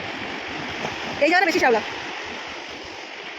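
Sea water washes in and out over the shore at Udaipur beach as a constant soft hiss of surf, with someone speaking briefly close by over it.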